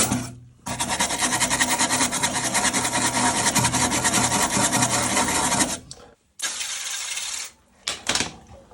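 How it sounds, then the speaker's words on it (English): A wire brush scrubs rust off the metal body of a V8 Toyota Hilux under restoration, giving a steady, loud, close rasping for about six seconds, then a pause and two shorter bursts of scraping. "I got this gold streak going down here that I'm just taking the rust off with this wire brush."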